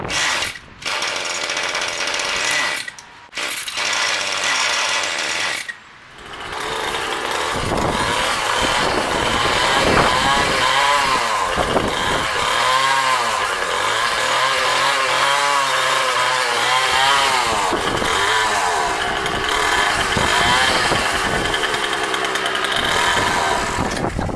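An old, free Craftsman weedeater, its fuel lines fitted wrong, runs loud and continuous with a harsh two-stroke buzz. It rises and falls in pitch as it revs, after a few brief cutouts near the start.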